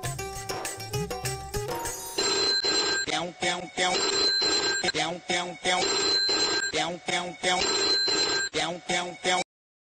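A phone ringing during a call, loud and close, with repeated ring bursts in a steady rhythm and short gaps between them, then a sudden stop; a brief voice is heard at the start.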